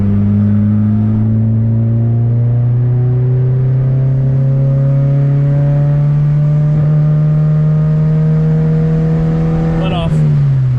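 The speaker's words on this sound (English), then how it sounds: "about to do a little fourth gear pull here" An Acura RSX Type-S with a K-Pro tuned engine pulls at full throttle in fourth gear on a highway, a loud, steady drone that slowly rises in pitch, then drops abruptly when the throttle lifts.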